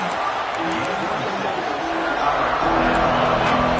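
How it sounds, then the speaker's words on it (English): Home football stadium crowd roaring during a game, a continuous loud wash of cheering and noise that builds toward the end, with a commentator talking over it. "Man, this crowd really affecting the football."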